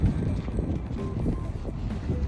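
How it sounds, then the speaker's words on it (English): Steady outdoor wind buffets the microphone with a constant low rumble, loud throughout and broken only by small gusty swells. "Oh, it's so windy out here."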